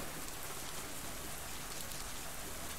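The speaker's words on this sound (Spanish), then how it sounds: "La lluvia seguía cayendo" Steady rain in the Fatal Force visual novel, a dense, even hiss of drops falling without pause, heard alone with no voices.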